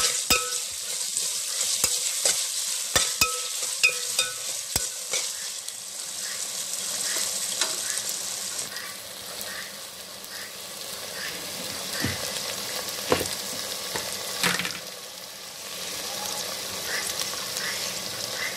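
Green chillies and tomato sautéing in a pan over ginger garlic for veg biryani, with a bright sizzle broken by spoon taps and stirring scrapes that fades a little partway through.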